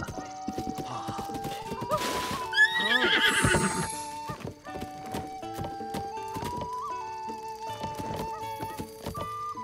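A horse in The Legend of Zelda: Breath of the Wild gives a loud, rising whinny amid clip-clopping hooves and thudding impacts, with steady game music tones running underneath.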